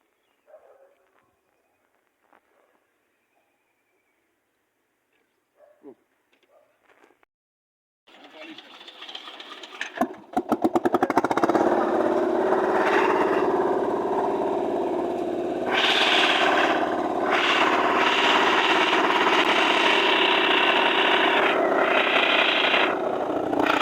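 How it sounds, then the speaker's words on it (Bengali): A small engine starts up after a few quiet clicks and then runs loud and steady, with a buzzing drone that rises and falls slightly. "Engine trolley set up."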